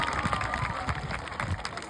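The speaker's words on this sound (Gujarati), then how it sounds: "જોરદાર તાળીઓ જાડેજા સર દ્વારા" Applause at a school award ceremony as a student receives a bronze medal, a crowd clapping and cheering at low volume with busy background commotion.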